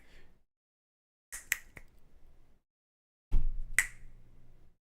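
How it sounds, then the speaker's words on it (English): Four sharp finger snaps in two pairs, the first pair fairly quiet, the second louder and closer over a brief low rumble, with silence between them. "I'm just snapping my fingers and pointing"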